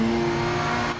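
A race car engine in the sim racing game Project Motor Racing 2.0 drones at a steady, sustained pitch, loud and close, then drops off sharply just before the end.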